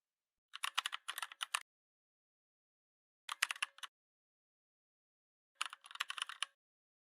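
Three short bursts of rapid clicking on a computer keyboard as page width and height values are entered, separated by silent pauses, crisp and close.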